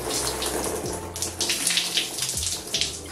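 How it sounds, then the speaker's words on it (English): Water runs steadily from a bathroom tap while a child's hair is rinsed, a close, continuous splashing flow with small gurgles and shifts as it hits the head and tub, with no talking. "He's gonna rinse it out, and then I gotta wash his actual hair."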